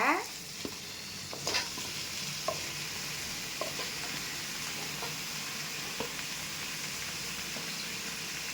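Tomatoes sizzle and fry in a pan of Tamil-style curry base while a spoon stirs, giving a steady hiss broken by periodic scraping clicks and knocks, close and with no talk.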